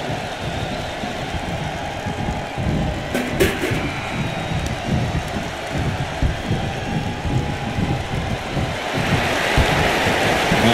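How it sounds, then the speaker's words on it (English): Roaring arena crowd in the wrestling video game WWE 2K22, a steady dense wall of cheering and noise that swells louder near the end, with no commentary over it. "The sound of this crowd is deafening"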